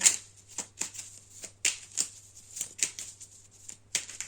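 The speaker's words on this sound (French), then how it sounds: "Allez, on va prendre une carte." Cards are shuffled and drawn for a reading, making a series of sharp, papery flicks and slaps at irregular intervals, near and clear over a faint low hum, with no voices.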